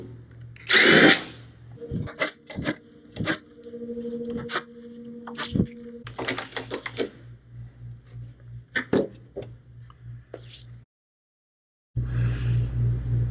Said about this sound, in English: Remove the top and front by removing the screws in the crate with a drill